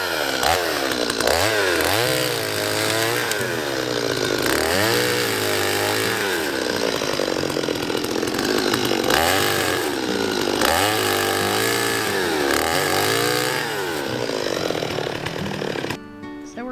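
Chainsaw cutting through a fallen pine tree in snow, engine revving repeatedly in loud close bursts that rise and fall as the chain bites into the wood, idling briefly between cuts.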